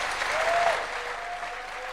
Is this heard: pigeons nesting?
no